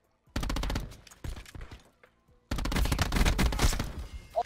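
Rapid bursts of pistol gunfire in the Call of Duty: Black Ops 4 video game, a volley of close loud shots, a short gap with scattered shots, then another sustained string of shots.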